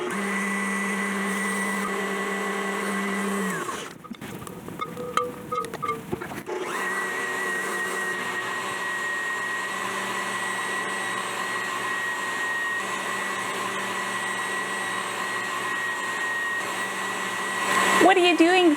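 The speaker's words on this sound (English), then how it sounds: "I can see that there's some tallow kind of hardening up where the whipper can't get to it." An electric mixer whips hardened beef tallow in a steady, loud whirring drone, briefly stopping midway as the fat is pushed down, then running continuously again and rising slightly at the end.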